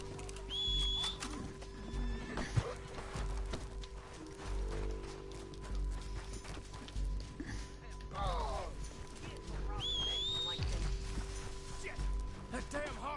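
Horses in the Red Dead Redemption video game neigh and whinny several times over clip-clopping hooves, with a steady background tone throughout.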